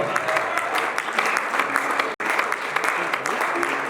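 A church congregation claps continuously in a dense, steady wash of applause, broken by one brief cut, with some voices mixed into the crowd noise.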